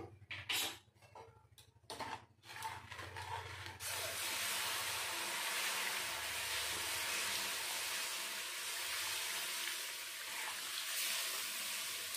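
Liquid milk poured into semolina frying in a pan produces a few clattering utensil knocks, then a sudden loud, steady hiss and sputter that carries on to the end, with no voices.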